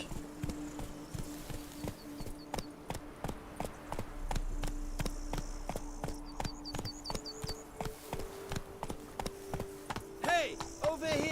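Roach the horse gallops in the fantasy game The Witcher, a steady rhythmic drumming of hooves carrying on throughout, fairly close, with soft ambient music and a few brief voices.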